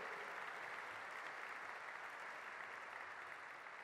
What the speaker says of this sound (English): let's give a big round of applause to Mark Zussman